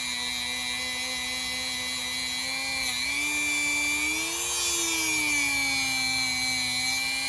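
A buffing machine polishes metal toward a mirror finish, its steady whine running continuously with pitch wavering as pressure shifts, close and alone without talk.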